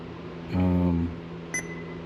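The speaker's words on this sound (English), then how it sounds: "see if we can turn off this terrible beeping noise" A newly installed Revision Raceworks 1.5 DIN car radio in a GMC Sierra gives a single electronic beep, a short sustained tone lasting about half a second, followed by a tiny faint blip, with no other sound around it.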